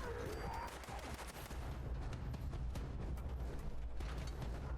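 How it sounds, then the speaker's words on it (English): Rapid gunfire from a super mutant camp fight in Fallout 76, a dense sustained volley of shots and clattering mechanisms at moderate distance. "Something else is shooting at me."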